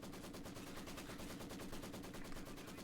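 Dense, continuous bursts of machine-gun fire fill a Company of Heroes 2 battle, rapid rhythmic shots layered over a constant din with no gaps.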